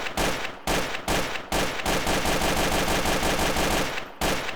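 Sustained rapid automatic gunfire from a modded gun in Counter-Strike: Source, loud and close, broken by a few short pauses between long bursts.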